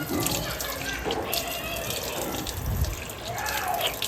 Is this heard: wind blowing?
no